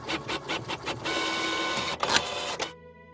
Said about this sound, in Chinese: 不久，打印机 吱吱吱地响了起来。